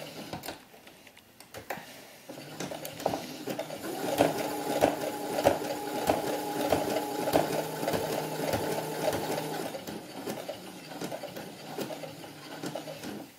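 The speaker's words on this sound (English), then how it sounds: "I'm going to zigzag it" A sewing machine zigzag stitches a seam in sheepskin for a doll vest, running in a fast, rapid rhythm for several seconds, with short starts, stops and handling clicks around it.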